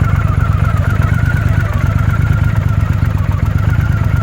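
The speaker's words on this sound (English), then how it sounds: "And there's that lovely V-twin engine." A 1983 Honda CX650 Turbo V-twin motorcycle engine running steadily nearby, a loud continuous throbbing idle with an even mechanical rhythm and no talking.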